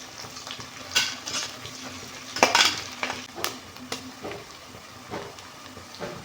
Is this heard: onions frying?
yes